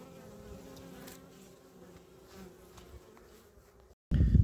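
Honey bees at an apiary in early November give a low, steady, fairly faint buzz that runs continuously, then a sudden louder rush at the very end.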